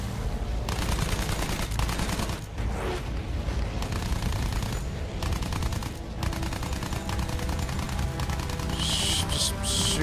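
Heavy aircraft gunfire in the Battlefield 1 video game, dense continuous bursts of rapid shots over a loud engine drone, with a bright sharp crackle near the end.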